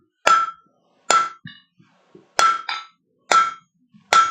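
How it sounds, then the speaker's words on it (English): A straight peen hammer strikes hot steel on the horn of an anvil while fullering behind a taper to forge a leaf keychain, five loud ringing clangs at uneven intervals, each followed by softer light taps. "I'm going to take our straight peen hammer, and I'm going to go over to the horn of the anvil"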